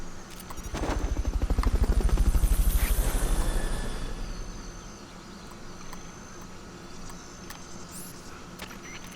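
A helicopter in the video game Metal Gear Solid Peace Walker roars in close, its rotor chopping in a fast, rhythmic thump. It swells for a few seconds, then fades to a low hum with faint clicks.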